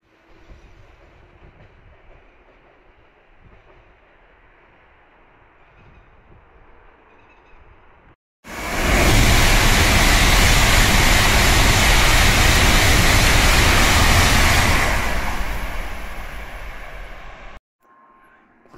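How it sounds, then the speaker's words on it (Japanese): A Tokaido Shinkansen bullet train rushes past close by, a sudden loud roar bursting in after a quiet rumbling background, holding for several seconds and then cutting off abruptly. "新幹線のね、音が聞こえる。"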